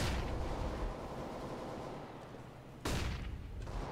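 Gunfire and a flashbang going off in the video game CS:GO, a steady dense roar of shots at close range with a sharp loud burst near the end.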